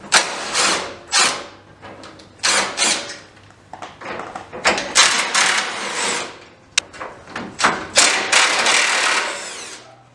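A power tool chews into the front end of a Toyota pickup in a series of loud, uneven, rasping cutting bursts separated by short pauses, close up and with no talking.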